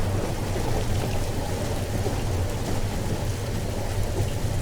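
Steady rain falling outdoors at Melattur with low, soft rumbles of light thunder underneath, a continuous wash of sound with no voices.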